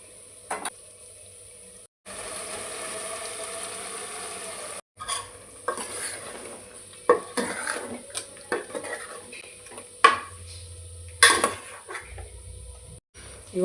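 Ground masala paste, for a chicken masala, is dropped into a hot pan and stirred, producing intermittent sizzling bursts, repeated scraping and clinks of a spoon against metal, with gaps of near quiet between actions.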